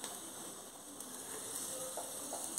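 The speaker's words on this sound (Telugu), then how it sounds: "ఒక మామిడికాయని ఇలా మనము స్టవ్ మీద బాగా కాల్చుకోవాలి" A whole raw mango roasts directly over a gas stove flame, giving a steady, quiet crackling sizzle with faint hiss and small pops throughout, no voices.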